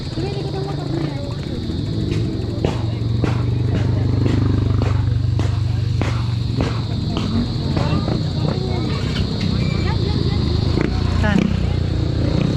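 A motorcycle engine drones and rumbles behind riders on an uphill mountain-bike trail at Antenna Hills in Binangonan, Rizal, with clattering and rattling over the steady engine noise while people talk.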